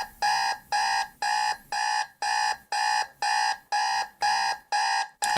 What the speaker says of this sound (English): I can hear the buzzing of my alarm going off.